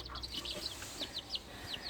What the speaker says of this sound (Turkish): 10 tane civciv var arkadaşlar